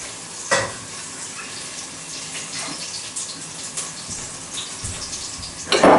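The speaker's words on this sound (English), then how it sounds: "So I'm going to pour this in this saucepan." Leftover spicy pickle vinegar pours from a jar into a saucepan for a chicken and bacon casserole, a close steady liquid splash with sharper clinks at the start and end.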